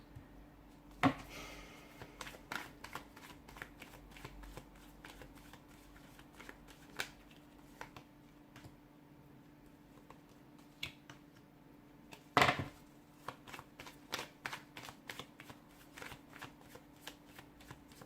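A deck of tarot cards is shuffled by hand, with a steady patter of quiet riffling flicks and two louder snaps, all close and soft. There is no talking.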